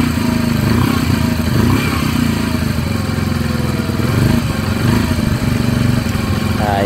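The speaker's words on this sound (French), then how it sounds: "il fait un vrai bruit de moto là" A freshly started engine roars with a loud, close, motorcycle-like buzzing drone that holds steady with slight rises and dips in pitch.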